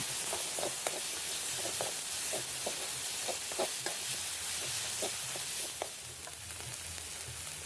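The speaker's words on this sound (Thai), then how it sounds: "ผัดพริกแกงให้หอมนะครับ" Pounded red curry paste stir-fried in oil for spicy eel: a steady close sizzle with irregular scraping and clacking stirs throughout, easing slightly near the end.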